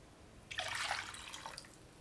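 Boiled and cooled milk pours into water in a pan for a sapota milk kesari, making a steady close liquid splash that lasts about a second before tapering off.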